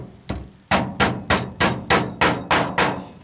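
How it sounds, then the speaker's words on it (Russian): A hammer strikes a bolt held against a mattress to punch a hole for a motorcycle fuel-tank petcock, eight loud close blows in a steady even rhythm, each with a short decaying ring. "вот так наставляю болт-гайка, и молоточком"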